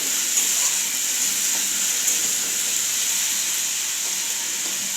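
Cumin paste sizzles in a hot pan, a steady, bright frying hiss that holds evenly for several seconds with a few faint stirring clicks and no talking.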